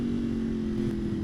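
Ducati Panigale V4 SP2 motorcycle engine running at low speed, a loud steady droning hum with a strong low tone held without breaks through the short moment.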